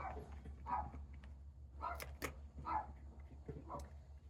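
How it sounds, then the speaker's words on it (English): Dogs bark outdoors a short distance away, several sharp barks in an irregular series over a low background rumble. "we have dogs barking whenever another dog walks by on a leash"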